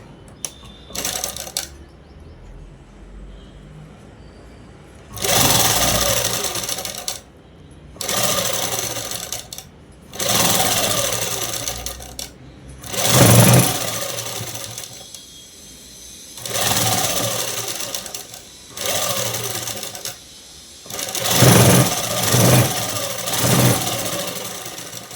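A sewing machine stitches the folded armhole hem of a langa jacket for a seven-year-old girl, running in about eight loud, close bursts of fast whirring, each lasting one to three seconds, separated by short quiet pauses.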